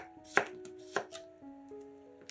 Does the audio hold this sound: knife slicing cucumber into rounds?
yes